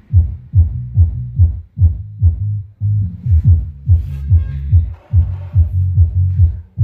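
Deep pulsing bass from a 20-inch subwoofer driven at maximum volume by a 40 amplifier board, thumping in a steady repeated rhythm with brief gaps, loud and close, with no voices.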